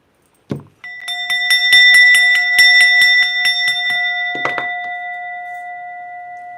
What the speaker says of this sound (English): Hold on, I'm gonna get my bell out.